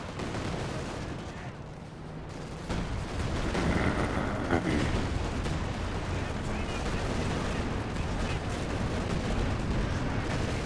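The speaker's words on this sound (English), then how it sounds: "flares being summoned for a Soviet 152mm barrage" A Soviet 152mm artillery barrage rumbles in Company of Heroes 2, dense and continuous booming and crackling gunfire filling the battlefield with heavy low roar, loud throughout.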